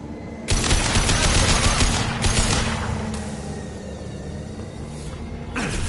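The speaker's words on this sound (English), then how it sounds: "Heavy fire!" Heavy gunfire in Mass Effect 2 breaks out suddenly and keeps up as a dense, loud fusillade of rapid automatic shots with a rumbling undertone, easing slightly before another burst near the end.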